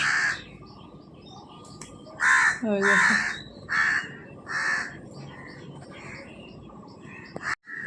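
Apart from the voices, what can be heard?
crows cawing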